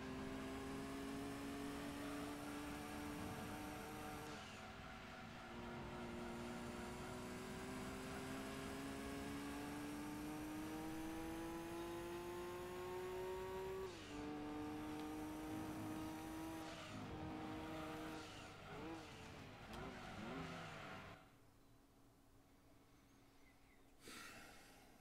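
A race car engine in the video game Gran Turismo 2 revs loud and sustained, its pitch climbing through the gears with several shift drops, then a brief wobbling tire squeal before fading to a quieter idle near the end.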